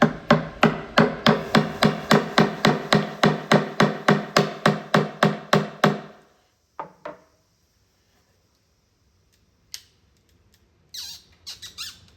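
A wooden pinball head is pried apart along its edge, producing a rapid train of about twenty loud, regular creaking squawks, then a few isolated knocks and small scrapes after a short silence.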